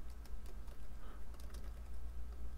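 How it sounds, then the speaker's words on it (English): Fingers type on a computer keyboard in a quick, uneven patter of light clicks over a steady low hum, close by and with no talk. "So what we're going to do is just type in some basic"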